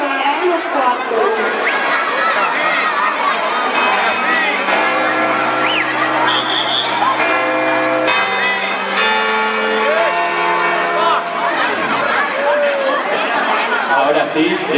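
Church bells ring out the New Year chimes at a children's New Year's Eve celebration in Vitigudino, steady tolling tones beneath a loud, continuous crowd of chatter and voices.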